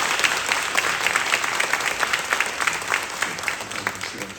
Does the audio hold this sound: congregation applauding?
yes